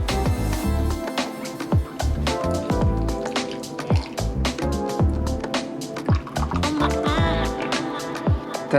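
Balsamic vinegar pours and drips into a chicken adobo marinade, giving wet squishing and dribbling sounds that run steadily and close up throughout.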